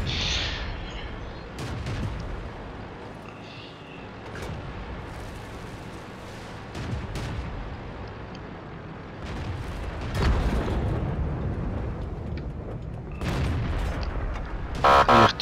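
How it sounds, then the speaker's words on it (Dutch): Tank cannon shots in World of Tanks, with a KV-1 and a VK 30.01 D in battle: several heavy booming reports spread across the scene, some near and loud, over a rumbling battlefield background. "Jammer genoeg mis ik hier twee schoten."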